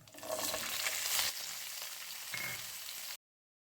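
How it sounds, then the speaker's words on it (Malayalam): Fenugreek seeds and onion fry in a pan, a dense crackling sizzle heard up close with a brief stir partway through before the sound cuts off abruptly. "ഇപ്പോൾ ഉലുവയും ഉള്ളിയും എല്ലാം നന്നായിട്ട് വഴണ്ട് വന്നിട്ടുണ്ട്."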